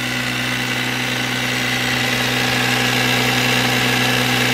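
An air compressor runs to pressurize an RV water system during air winterizing, giving a loud, steady drone with a constant low hum that holds unchanged throughout.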